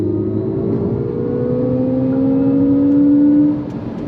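An electric car driving and accelerating, a smooth rising motor whine climbing steadily in pitch over road and tyre rumble, then easing off at the end, with no talking.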